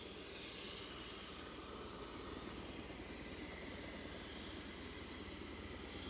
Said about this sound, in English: That's C-17.